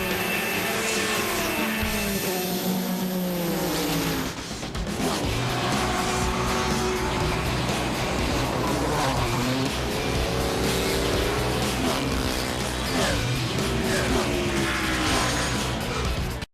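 ALMS sports prototype and GT race cars at Lime Rock scream past on track, engines rising and falling through gear changes with overlapping passes, loud and continuous throughout.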